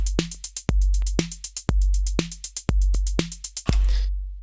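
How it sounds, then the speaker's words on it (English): Roland TR-808 drum machine running a 4/4 pattern of deep kick and crisp snare with a steady stream of ticking closed hi-hats layered between, ending on a longer open hi-hat wash. "Now we can add in some hi-hats."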